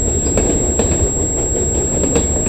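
CN freight train M302 from Symington Yard in Winnipeg rumbles past loud and close, with a continuous roar, rhythmic wheel clicks on rail joints and a thin high wheel squeal above.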